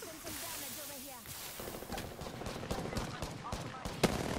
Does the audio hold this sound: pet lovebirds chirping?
no